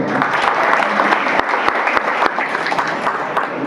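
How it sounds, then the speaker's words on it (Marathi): An audience at a Marathi folk-art (bharud) performance by a college gathering claps steadily, dense loud applause filling the whole stretch with sharp individual claps standing out near the front. "सर्वांसाठी टाळ्या वाजवा तुम्ही"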